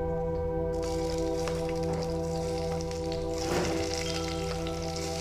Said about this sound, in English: you hear that sizzling? That means that our oil was nice and hot and ready to receive our onions.